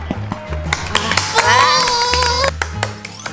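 Several scattered hand claps from a small group playing at home, mixed with loud cheering voices and talking.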